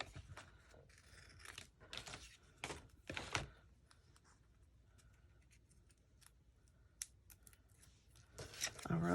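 Scissors snip through paper to cut out a small figure for a mixed-media vintage library shadowbox, with close, crisp cuts arriving in short irregular bursts between quiet stretches while a voice talks at times.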